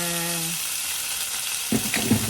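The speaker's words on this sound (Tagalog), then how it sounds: "Hintayin lang natin na maluto ang fajitas na ito." Fajitas with beef and garlic powder frying in a pan: a steady broadband sizzle throughout, with a brief tone at the start and a few louder clatters and stirring sounds near the end.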